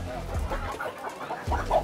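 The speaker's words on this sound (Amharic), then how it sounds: "በጣም ምን የመሳሰለ ዶሮ አለን።" Red hens at a busy poultry market give short, close clucks in a couple of bursts, with faint crowd murmur in the background.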